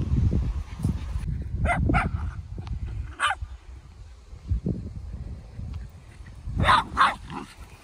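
Dogs at an agility show bark in several short bursts, some close and some farther off, among outdoor crowd noise and low rumble.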